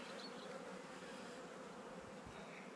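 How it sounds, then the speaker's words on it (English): A faint, continuous buzz of many honeybees humming together in an open hive during queen replacement, steady and low, with a few soft knocks underneath and no voices. "Let's get some worker bees."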